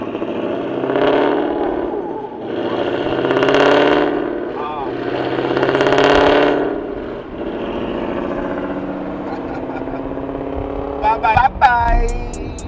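A Ford Mustang's engine swells loudly in several rising revs and passes nearby, heard from inside a moving car; voices talk over it.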